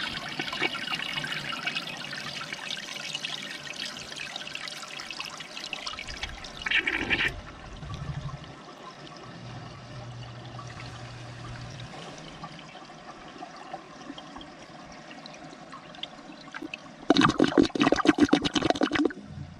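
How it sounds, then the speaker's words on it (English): A toilet under repair for overflowing refills with a long, steady hiss and trickle of water, broken by brief gurgles. Near the end a loud, rushing flush bursts in. "We'll let this toilet fill up and we'll flush it again."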